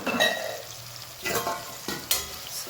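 Coriander-cumin powder, red chilli and salt being stirred into tomatoes and vegetables frying in a pan, with repeated scraping strokes over a soft, steady sizzle.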